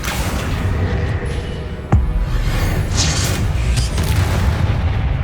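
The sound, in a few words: spell explosion from Hogwarts Legacy video game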